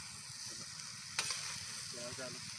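Lahori tawa keema with peas and tomatoes sizzling on a flat griddle, a steady bright hiss with a sharp metallic scrape midway and a couple of quick scraping strokes near the end, close and unaccompanied by speech.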